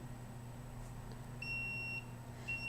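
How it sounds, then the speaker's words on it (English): An alarm inside a home unit emits a faint, thin high-pitched electronic beep, one longer tone followed by a shorter one, over a quiet low background hum. "the alarm goes off when I walk in my unit"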